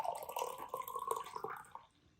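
Warm drinking water poured into a glass to half full, a gurgling trickle with small splashes that tapers off near the end.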